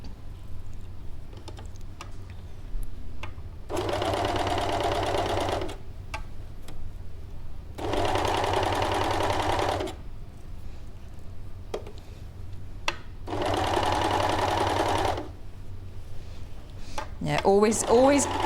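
Overlocker sewing through a lot of fabric for dressmaking, running in three steady mechanical bursts of a few seconds each, separated by pauses with light handling clicks.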